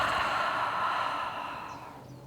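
A single long, breathy exhale through the mouth at the close of a yoga flow, a soft airy rush that fades gradually over about two seconds, heard alone and close.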